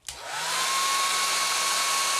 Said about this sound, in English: you can always take a little hair dryer and you can blow dry it